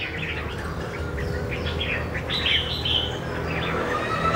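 Small songbirds kept in square and round bamboo cages in a home bird-keeping corner give scattered, bright chirps and short calls over a low background rumble, with a clearer burst of tweets midway.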